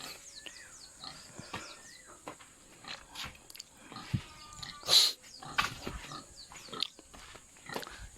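Pig on a rural Philippine property near a house under construction, giving scattered grunts and squeals amid chirping birds and outdoor ambience, with a sharp loud squeal midway.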